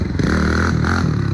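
Motorcycle engines from a promotional video, played back as a rough, loud droning rev with rising and falling pitch, continuous and close throughout.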